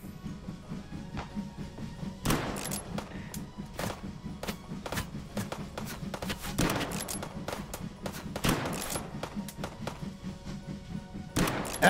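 Gunfire from the VR shooter Hot Dogs, Horseshoes & Hand Grenades during a village-clearing round, heard as scattered sharp shots and thumps over a steady low game hum, mostly moderate in level with no talking.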